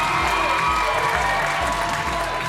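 A theatre audience applauds the two teams at the end of a national improv final match, with dense, continuous clapping and some crowd noise filling the short stretch at steady, loud level.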